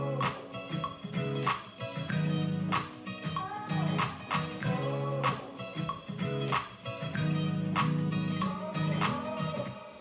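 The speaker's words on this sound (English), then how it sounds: "This clap is called a Forentech Amex clap." Electronic clap sample, a Forentech Amex clap, repeating in a steady beat pattern inside a dense music mix with sustained bass and synth tones, loud and continuous throughout with no talking.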